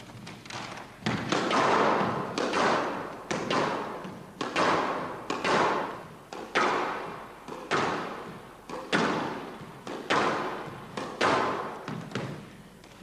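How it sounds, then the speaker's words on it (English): An object slammed hard against a wall over and over, heavy thuds landing about once a second in a steady rhythm, close and loud. "Just giving it a few hard hits against the wall for a few minutes"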